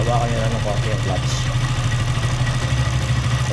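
A KTM motorcycle engine runs jerkily close by, a steady low throb with uneven surging pulses, while someone talks over it.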